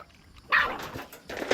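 A dog barks a few times nearby, sharp bursts separated by short pauses, with faint background noise.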